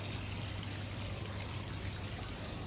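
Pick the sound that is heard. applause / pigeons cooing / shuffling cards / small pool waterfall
small pool waterfall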